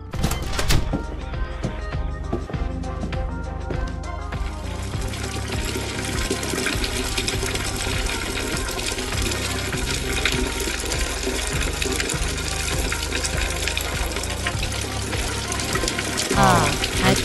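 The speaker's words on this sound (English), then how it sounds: "Ah, I peed on the toilet." Cartoon urination into a toilet in an animated short: a steady, dense stream of splashing water runs continuously at even loudness, with a musical underlay throughout and no clear breaks.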